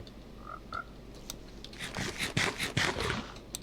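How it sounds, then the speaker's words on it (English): Frogs croak in the Minecraft video game, a few short croaks early on followed by a cluster of louder rasping, scraping calls close by, with no talk over them. "I heard some frogs"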